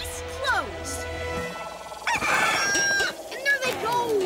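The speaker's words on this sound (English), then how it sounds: "We're chasing down some chickens." In a PAW Patrol cartoon, chickens cluck and a rooster crows, mixed with cartoonish voices and squawks over busy background sound.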